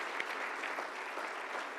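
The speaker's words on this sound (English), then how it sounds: "One more round of applause for them." Steady applause from the audience at a business hall of fame induction ceremony honoring kids, a dense wash of clapping filling the room throughout without speech.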